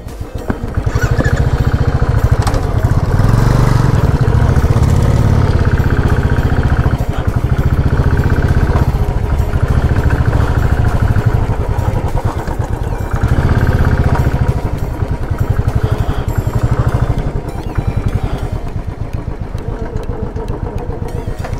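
A motorcycle engine runs continuously at close range for over twenty seconds, a loud rough mid-pitched chug with rattling clatter, steady throughout with no clear speech.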